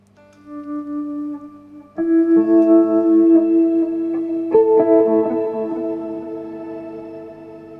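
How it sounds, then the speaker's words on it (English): Sustained electric guitar chords washed in lush, spacious reverb, swelling as new notes enter and ring out in a long, shimmering tail. "the whole ambient reverbs, I can put one on this rig as well, so you can hear"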